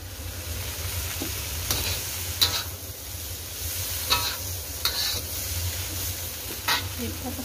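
Young jackfruit sautéing in a pan, a steady sizzle broken by several sharp scrapes and knocks of stirring, close by.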